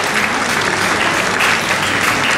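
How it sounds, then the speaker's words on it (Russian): An audience applauds after a poem is performed on stage: steady, dense, loud clapping that continues evenly through the short stretch with no break. "Браво, ваши аплодисменты."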